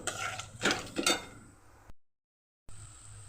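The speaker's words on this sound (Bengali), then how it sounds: "মশলাটা কিন্তু খুব ভালো করে আমি এবার কষিয়ে নেব" Spice paste sizzles in a pan while a spoon stirs and scrapes it, giving a few quick clinking strokes before a brief dropout and then a faint steady hiss.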